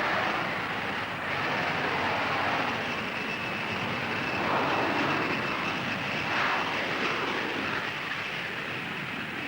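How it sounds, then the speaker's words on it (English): Canadian Lockheed F-104 Starfighter jets from an aerobatic team taking off in formation at a 1980s UK airshow; a loud, steady jet roar fills the whole stretch, swelling slightly midway, with no talking. "The Canadian Starfighters aerobatic team opened their performance with a formation takeoff."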